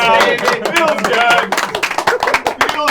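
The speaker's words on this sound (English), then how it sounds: "Standing ovation." Lively clapping from a crowd giving a standing ovation, dense and continuous with sharp hand claps, mixed with cheering and voices throughout.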